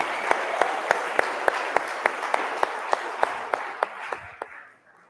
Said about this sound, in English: Please give Fran a round of applause